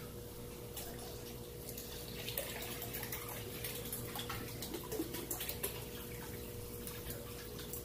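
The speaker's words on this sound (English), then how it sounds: "Put a little bit of water in there." Water pours and trickles into a bottle with splashy, gurgling sound, faint and close, with a few drips.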